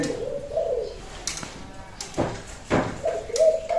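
A dove coos in low, soft repeated phrases at the start and end, interrupted by a few sharp knocks and rustles nearby.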